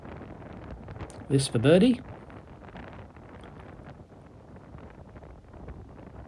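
Strong wind gusts buffet the microphone on a golf course, a steady low roar running throughout, with a brief spoken remark near the start.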